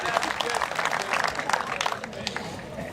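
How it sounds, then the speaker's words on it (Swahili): Audience clapping at a live event in Meru, a dense, steady patter of many hands with voices mixed in, fading slightly toward the end. "Okay, tupigie para makofi."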